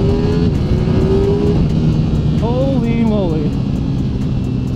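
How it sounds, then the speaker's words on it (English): Ducati Panigale V4S motorcycle in race mode accelerating hard in second gear, a loud close engine roar climbing steadily in pitch with a brief gear-change dip, while a rider's voice exclaims over it. "I'm going to drop it in the second gear and just give it a little go."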